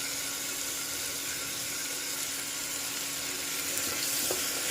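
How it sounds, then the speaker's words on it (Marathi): Finely chopped red tomato sautéing in a pan with ginger garlic paste, giving a steady, soft sizzle and hiss that stays fairly even, with a faint scrape near the end. "अद्रक लसणाची पेस्ट टाकून मी थोडंसं परतून घेतलंय। आता यामध्ये बारीक चिरलेला 1 टोमॅटो टाकून घ्यायचा आहे लाल।"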